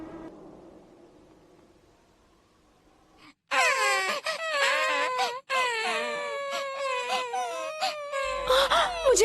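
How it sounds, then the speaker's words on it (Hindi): Children crying in a Hindi-dubbed classic anime episode, loud high-pitched wailing and sobbing from several young voices that bursts in after a quiet, murmuring stretch and continues unbroken to the end. "मुझे अंदर से बच्चों के रोने की आवाज सुनाई दे रही है।"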